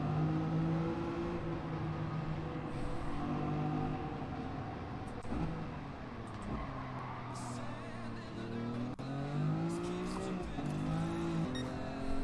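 A car in Gran Turismo 7 spinning its wheels with the engine revving, a steady droning engine tone whose pitch rises and falls with throttle, moderately loud and continuous without speech.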